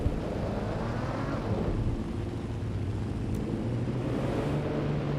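Car driving in the Watch Dogs Legion video game, a steady low engine rumble with broadband road noise running continuously at an even level, with no voices.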